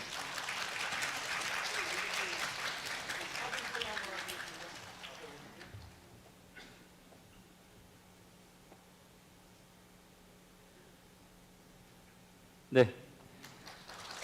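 Applause of congratulation at a Korean church online worship service, after a blessing confirmation is read: a broad, steady wash of clapping for about five seconds that fades out, followed by a quiet room and one sharp knock.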